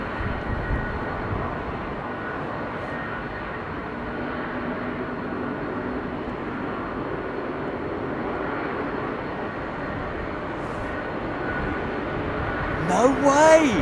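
Airliner engine spooling up on a taxiway ramp at London Heathrow, a sustained rumbling drone with a low tonal hum, rising slightly near the end as a brief burst of other noise cuts in.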